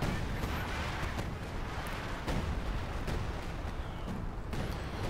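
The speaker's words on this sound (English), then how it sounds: "Assault artillery." An assault artillery barrage in the Company of Heroes 2 video game gives a dense, steady rumble of booms and distant explosions that runs unbroken throughout.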